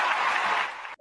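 Short burst of audience applause at the close of a data warehouse security interview, dense clapping for about a second before cutting off abruptly.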